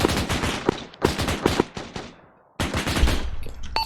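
Rapid bursts of automatic gunfire in Arma 3 rattle out close and loud in several volleys, broken by a short pause and a fading tail before firing resumes.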